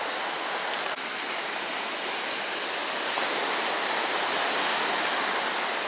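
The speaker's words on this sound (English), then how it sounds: "it's not very active, the surf right now, so it's not coming in too hard" Gentle surf rolling onto a shallow beach at Jekyll Island, a steady, loud, close wash of broadband water noise that swells slightly toward the end, with no talk.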